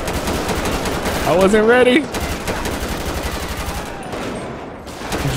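Sustained machine gun fire in GTA 5 during a police gang-unit shootout, rapid rattling bursts close and loud across the whole stretch, with someone speaking briefly over the shots.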